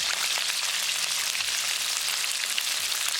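Chicken strips deep-frying in hot oil on a stove, a steady, loud crackling sizzle that carries on evenly throughout with no voices.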